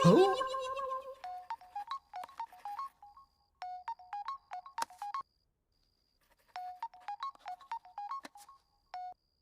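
A phone ringtone plays a bright, repeating electronic melody in short bursts separated by pauses, clear and close after a brief opening sound.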